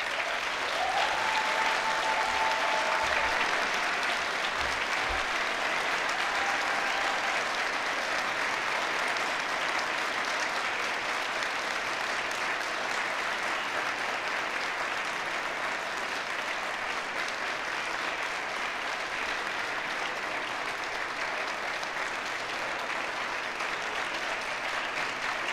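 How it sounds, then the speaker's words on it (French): An audience at a 2021 university graduation ceremony of a human sciences faculty applauds in sustained, even clapping for over twenty seconds, filling a large hall. "je vous invite à les applaudir chaleureusement"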